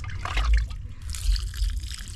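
Water poured out on a farm trickling and splashing onto fairly dry ground and soaking in, with uneven gurgles and a low rumbling background heard close up.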